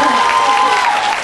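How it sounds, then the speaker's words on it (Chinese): Audience applause at a Singapore promotional appearance by a singer, a dense crowd clapping steadily throughout, with a voice or cheering mixed into the noise. "掌声大声一点，好不好？"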